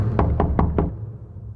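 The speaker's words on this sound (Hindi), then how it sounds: "फिर से दस्तक" Four evenly spaced knocks on a door, sharp and fairly close, rapping in a quick steady rhythm before fading into a low room hum.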